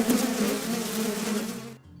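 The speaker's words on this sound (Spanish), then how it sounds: "¡Mosquitos!" Mosquitoes buzz in a steady, loud, close whine that holds for under two seconds and then cuts off abruptly.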